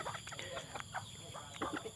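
Bantam chickens, including a white hen, cluck softly at close range in a free-range backyard, with short repeated clucks scattered over a quiet background.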